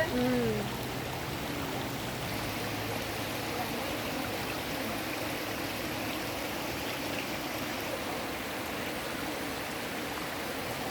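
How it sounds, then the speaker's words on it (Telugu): Rainwater running off the hills streams steadily across a ghat road in a continuous rushing wash, close and even throughout, with a brief faint tone at the very start. "రోడ్ల మీంచి కూడా ఇలా నీళ్లు జల జల పారుతున్నాయండి కొండల మీంచి వచ్చిన నీళ్లు"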